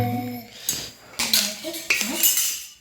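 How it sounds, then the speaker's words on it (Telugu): Steel bowls are set down one after another on a hard surface while sweet corn chaat is being served, giving several sharp metallic clinks with brief ringing tails, close by and moderately loud. "గిన్నెలు వేస్తాను ఉండు విన"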